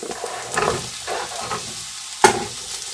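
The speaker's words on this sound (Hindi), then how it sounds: "इसका कलर हल्का सा चेंज हो गया है तो इसमें हम आलू को डाल देंगे" Potatoes tipped into onions already frying in a pan, then stirred, with soft sizzling, a few scraping stirs and a sharp clatter near the end.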